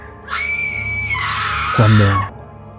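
A woman lets out one loud, terrifying scream, a sustained high shriek lasting about two seconds that wavers and then breaks into a lower, rougher cry before cutting off, heard alone.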